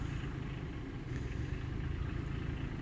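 A tractor engine runs at a steady, low, droning rumble while hay is moved around a farm paddock, continuous and close with no pauses.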